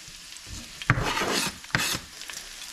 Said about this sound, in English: You should really throw the garlic in first because garlic will burn quicker than onions.